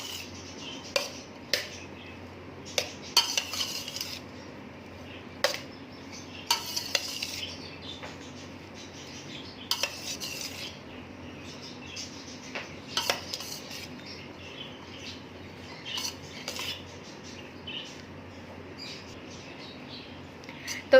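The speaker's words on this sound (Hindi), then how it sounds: "अच्छी तरह हम इन सारी चीज़ों को मिक्स कर लेंगे।" A spoon mixes chana chaat ingredients in a bowl, producing repeated sharp clinks and scrapes against the dish in an uneven rhythm over a quiet background, close by and with no talking.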